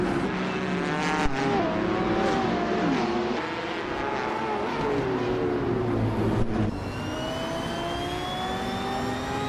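Race cars, including a 2015 Chevrolet Corvette C7R, circle a track with a continuous engine roar, pitch rising and falling through shifts and passes, steady and loud with no talk.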